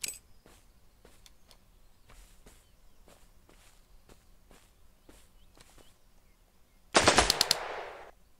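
Gunfire in the survival video game Road to Eden: faint rhythmic footsteps or clicks, then a loud sudden rapid burst of shots near the end that trails off.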